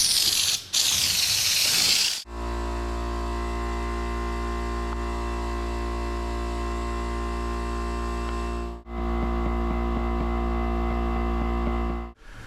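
Fluid Film rust protection sprays into a seam on a dump truck in a shop, a broad steady hiss in two long bursts broken by short pauses, over a constant low hum, with no talking.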